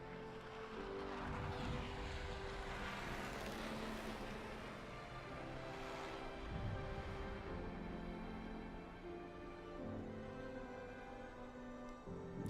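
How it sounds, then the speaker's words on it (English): Propeller planes flying over in the video game Everybody's Gone To The Rapture, a steady droning engine hum with harmonic tones, rather faint and continuous, swelling slightly midway. "Oh, there's planes coming."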